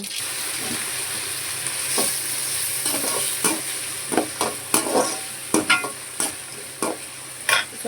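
Mustard seeds and onions frying in a pan for tempering, a constant sizzle with sharp pops and stirring scrapes over it, no talking.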